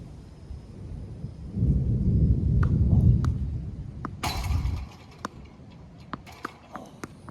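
A low roll of thunder from an approaching storm swells for a few seconds on a tennis court during serve practice, then fades, followed by scattered sharp ball and footstep taps at moderate distance.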